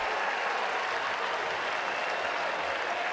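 A baseball crowd at a college game applauds steadily, a dense wash of clapping and crowd noise at a constant loud level throughout, with no voices standing out.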